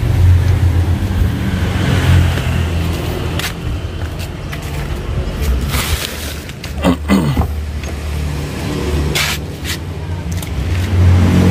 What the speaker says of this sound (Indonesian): langsung sekarang kita nyalakan mesin ini yuk